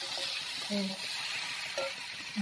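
Jackfruit and shrimp sizzle softly in a pan on a home stove, a faint steady frying hiss with a few brief stirring scrapes.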